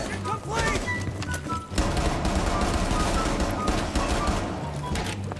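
Gunshots in a video game played with friends, dense overlapping bursts of fire running continuously under excited talking.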